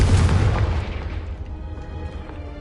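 Incendio and Confringo spells go off in Hogwarts Legacy with a loud, booming explosion that hits hard at the start and then rumbles and fades away.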